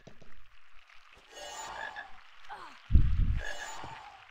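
A frog croaks in a Harry Potter video game, with a few short croaks spaced out over soft in-game sounds and a louder low thump near the end.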